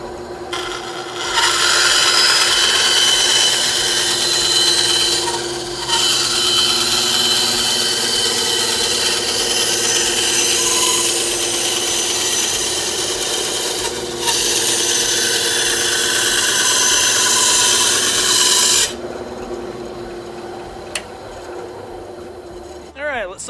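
A WEN 3959 9-inch benchtop band saw with a 2.5-amp motor cuts through wood, a steady close rasping whir running for most of the time with brief dips and a drop in level as the cut ends.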